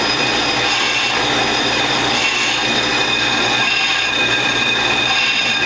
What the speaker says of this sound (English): I'm just taking a light cut off of this side just to make these things parallel